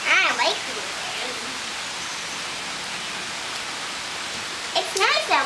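Warm rain falls outdoors as a steady broadband hiss of drops hitting surfaces, with a voice speaking briefly at the start and end.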